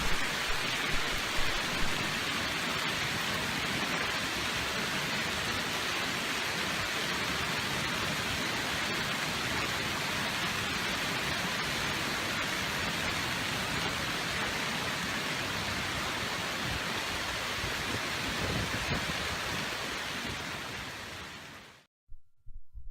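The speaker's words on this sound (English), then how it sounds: "Take a look at the magnitude of this recent hailstorm." Hail and rain pour down during a hailstorm over the Denver metro area, a dense, steady roar of pelting with no voices, cutting off abruptly at the end.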